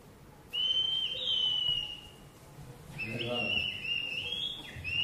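Two shepherds in a high mountain valley produce a traditional whistled pastoral signal: piercing, sustained tones that rise and hold, sounding in two long phrases with a brief pause between them, over a faint, low background murmur.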